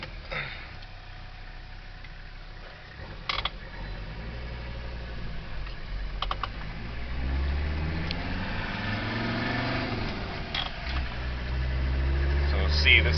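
A turbo diesel Mercedes-Benz car running on propane drives along, its engine droning steadily and building gradually in loudness, with a few brief clicks and knocks inside the cabin.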